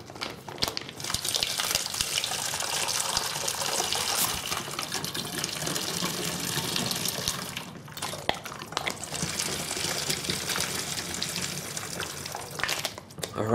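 Water squeezed through a Sawyer Squeeze filter into a standard-neck bottle pours in a steady, close hissing stream, with two brief pauses partway through.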